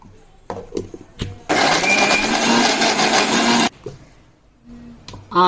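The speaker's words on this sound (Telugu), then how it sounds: "మెత్తగా గంధంలాగా మిక్సీ పట్టుకోవాలి." A mixer grinder whirs loudly for about two seconds grinding masala to a fine paste for crab curry, starting and stopping abruptly, with clicks and handling knocks before and after.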